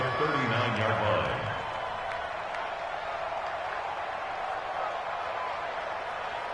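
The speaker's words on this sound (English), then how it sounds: "the crowd getting into it as we come up on a big 3rd down" A stadium crowd at a football game cheers steadily through a big third-down moment, a broad, sustained roar at moderate distance, with a voice briefly heard at the start.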